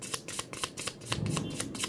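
Tarot cards being shuffled by hand, a quick run of crisp riffling flicks repeating at a fast, even rhythm, close and alone.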